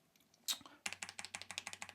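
Rapid run of crisp keystrokes on a NuPhy Air60 HE keyboard, about a dozen evenly spaced clacks following one sharper click, close and clear.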